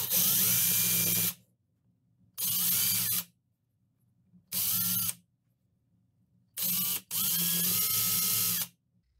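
A power drill bores through a wooden fishing lure in four loud, high-pitched bursts of a few seconds each, separated by short silent pauses, close up with no talking.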